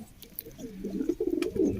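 Pigeon at a pigeon club cooing up close, a series of low soft throaty coos growing louder toward the end, with no talk.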